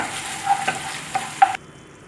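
Mushrooms stir-fry in a pan with chilli tomato sauce, steady sizzling with a few scraping, clacking stirs of a spatula, ending abruptly into near silence.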